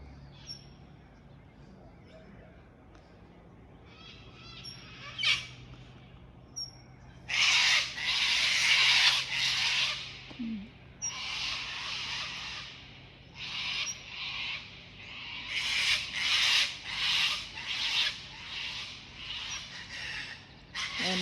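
Birds call noisily in bursts of chattering squawks and chirps, close and loud, with quiet gaps between the clusters.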